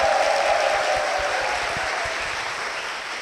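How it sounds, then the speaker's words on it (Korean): Applause from a church audience in a broadcast, a dense steady wash of clapping that slowly fades, with no talk over it. "박수로 모시겠습니다."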